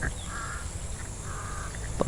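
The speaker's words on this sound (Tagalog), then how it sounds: "Parang uwak." A crow caws several times at moderate distance, harsh drawn-out calls over a steady background hiss near a banana grove, with no talk.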